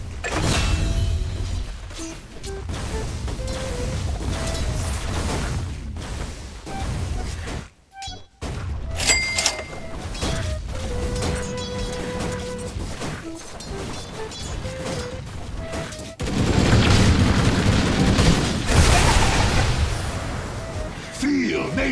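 A tower being attacked and destroyed in the Dota 2 video game, with crashing smashes, thuds and clanking mechanisms beneath an announcer voice and a busy layer of game effects.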